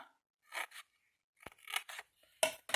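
Scissors snip through the bottom of a small paper box being made to store flowers, with a few short, crisp cutting strokes separated by quiet gaps, close and fairly soft.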